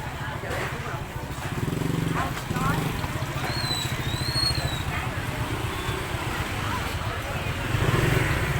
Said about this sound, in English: Dodging motorcycles.